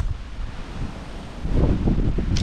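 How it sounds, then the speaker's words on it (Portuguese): Strong wind gusts roar over open water as a storm arrives at sea during a fishing trip, buffeting the microphone with loud, steady rumbling noise that swells toward the end, with waves faintly beneath. "O vento chegou"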